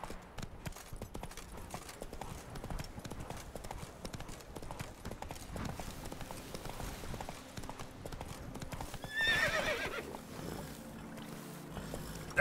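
Horse hooves clip-clop steadily at a gallop in The Witcher 3, a continuous rhythmic thudding over wind and ambient game sound, with a brief louder swell near the end.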